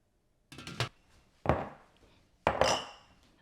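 Glass canning jars are set down and handled in a kitchen, making three distinct clinks and knocks about a second apart, each ringing briefly against a quiet background.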